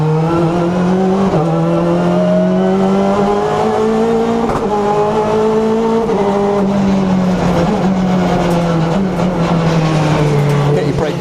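Engine of the 2015 Honda Civic Type R BTCC race car heard from on board at Silverstone, loud and constant, its pitch rising through the gears with sharp drops at each shift and a voice talking over it.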